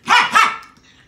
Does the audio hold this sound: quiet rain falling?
no